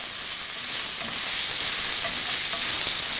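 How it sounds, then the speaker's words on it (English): Sausage browning in a pan gives a loud, steady, close sizzle that swells a little as it goes on, with faint stirring underneath and no talking. "So I'm going to brown up this sausage and then move on to the next step"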